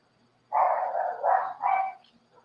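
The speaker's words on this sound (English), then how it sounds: "And them dogs out there," Dogs barking outside in a front yard, a quick burst of three muffled, closely spaced barks heard from a short distance against an otherwise quiet background.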